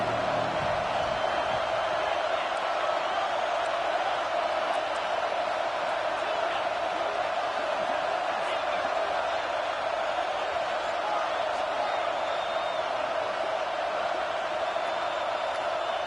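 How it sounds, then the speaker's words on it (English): A huge stadium crowd at a Penn State football game in Happy Valley roars on third down, a constant loud wall of sustained crowd noise with faint voices within. "Here comes the noise from this big crowd in Happy Valley on third down."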